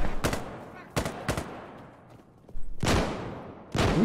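Loud gunfire from the video game Insurgency Sandstorm: sharp shots in short bursts, a quick double shot, then heavier booming reports with rumbling tails, spaced irregularly over a few seconds.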